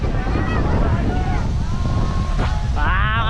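Strong wind buffets the microphone in a constant roar beside the Dupinga River among mountains in Gabaldon, Nueva Ecija, with faint voices and higher tonal sounds breaking through near the end.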